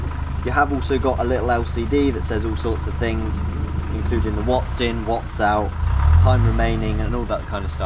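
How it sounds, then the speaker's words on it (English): A vehicle engine idles as a steady low rumble in the background, continuous beneath someone talking close by. "Apologies for the engine noise in the back"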